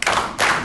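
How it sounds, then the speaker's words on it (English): A roomful of middle school children at KIPP Infinity in New York clap twice in unison, two sharp, close group claps in quick succession with no talking. "Clap twice."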